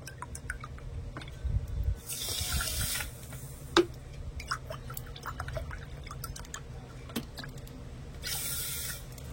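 Water poured into a pot for sugar syrup, made with 1.5 cups of sugar and 1.5 cups of water: a soft trickling splash with two brief bursts of stronger pouring and scattered drips, heard alone and fairly close.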